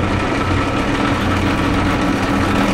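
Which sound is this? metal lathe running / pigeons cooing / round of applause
metal lathe running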